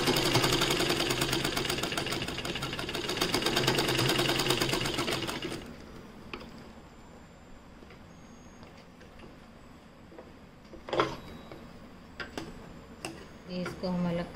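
Sewing machine stitching a square neckline on fabric, a rapid steady ticking run for about five seconds, then quieter handling noises and a few soft clicks as the cloth is turned, with someone talking throughout.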